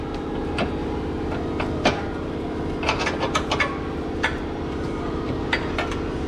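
Bolt being loosened and removed with a wrench under a 2004 Chevrolet Suburban 1500 with a 5.3 engine; sparse, sharp metallic clicks and taps scattered over a steady background hum, no talking.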